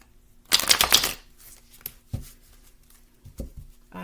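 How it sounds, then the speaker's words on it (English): Tarot cards shuffled by hand in a burst of dense riffling, then a few soft isolated taps and slides of cards, fairly close and with no talking. "and then we'll start shuffling"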